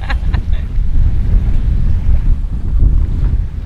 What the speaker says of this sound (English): it seems like the wind is picking up a little bit